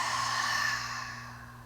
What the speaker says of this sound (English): Take an inhale, open mouth exhale